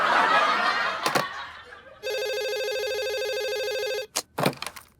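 A telephone rings with a loud, steady electronic trill for about two seconds in an otherwise quiet room, framed by short bursts of laughter and a few thumps.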